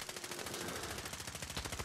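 Rapid automatic gunfire in Call of Duty: Modern Warfare, a fast, evenly spaced stream of shots that runs without a break, fairly faint and with no talking.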